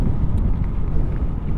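Brisk wind buffets the microphone during an e-bike ride under partly sunny skies, with gusts near 25 mph producing a steady, loud low rumble throughout with no talking.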